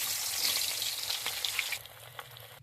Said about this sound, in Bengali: এবার ডিম দিয়েছি, ডিমটা বেসন দিয়ে নিয়ে দিয়ে দিয়ে আর দিয়ে মাখিয়ে নিচ্ছি